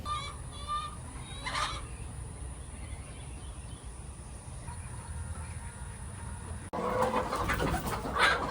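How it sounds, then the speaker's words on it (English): Hens cluck and chirp at a chicken seller's stall, several birds calling intermittently over steady background noise, with a louder burst of activity near the end. "They have so many chickens"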